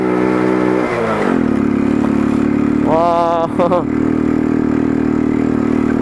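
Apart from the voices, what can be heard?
motorcycle engine revving uphill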